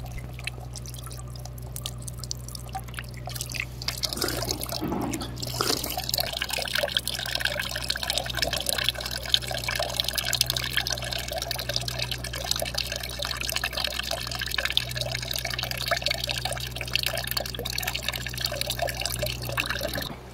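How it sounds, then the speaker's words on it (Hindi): Water pours steadily from an open tap left running beside containers set out at an outdoor water point, a continuous splashing rush that stays constant throughout, with no voices. "नल से पानी भी गिर रहा है, कोई खोल के गया है नल"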